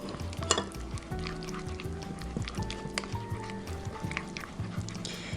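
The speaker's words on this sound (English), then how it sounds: "I'm going to stir it up" A sauce with ketchup and paprika is stirred in an Instant Pot, with soft liquid sloshing, a gentle sizzle and light clinks and scrapes of the utensil.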